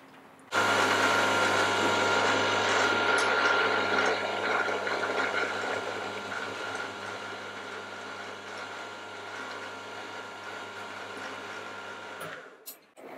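A lathe or power tool steadily machines a Phillips screwdriver tip as a star pattern of millimeter-wide slots is cut, giving a loud, continuous whirring grind with a constant hum that runs for about twelve seconds, then stops abruptly.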